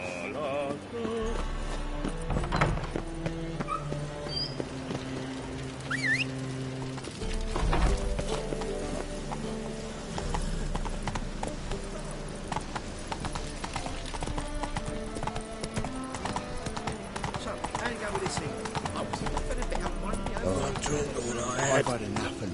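Roach, the horse in The Witcher 3: Wild Hunt, gallops in a rapid, steady clip-clop of hooves under game music, with a brief whinny and a voice talking over it.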